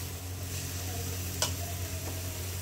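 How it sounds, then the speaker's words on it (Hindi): Peas cooking with salt in a pan on a low flame, a quiet steady simmering sizzle with a faint scrape or tap of a spoon stirring them, no voices. "अच्छे से नमक मिक्स कर देंगे और इसे गलने के लिए छोड़ देंगे"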